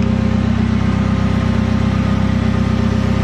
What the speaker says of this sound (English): let it sit idling off the ramp for a bit